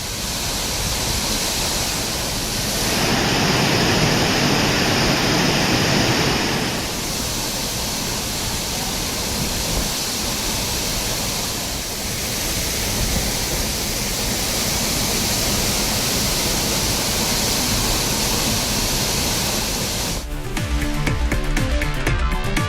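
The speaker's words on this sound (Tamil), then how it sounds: "பிரதான அருவியில் வளைவை தாண்டி தண்ணீர் ஆர்ப்பரித்து விடுவதால்" Water gushes and roars over the main falls at Courtallam, a dense, constant wash of noise filling the whole stretch, loud and unbroken, with a shift in texture near the end.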